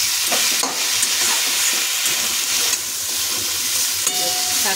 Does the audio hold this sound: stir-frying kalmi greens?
yes